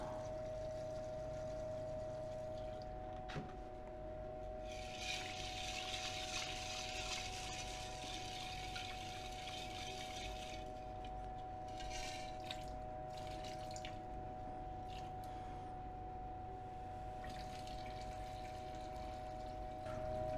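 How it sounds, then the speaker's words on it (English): Distilled water runs and splashes over a freshly cast silver cell electrode bar, a faint steady wash of pouring and dripping for several seconds over a constant electrical hum. "Distilled water rinse number 3."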